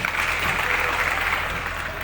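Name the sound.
audience applause at a festival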